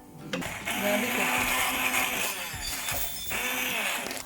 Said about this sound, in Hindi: मैं इसमें ब्लेंडर चला के इसको बिल्कुल पेस्ट कर लूँगी